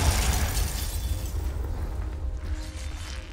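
A Confringo blasting spell explodes in Hogwarts Legacy, a loud rumbling boom that decays into a lingering low roar and fading debris.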